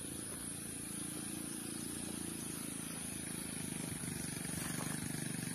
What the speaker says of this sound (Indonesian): Itu suara motor ya.